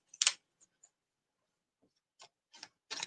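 Reading cards being shuffled by hand, heard as a few short, crisp riffling bursts separated by quiet gaps, close and fairly soft.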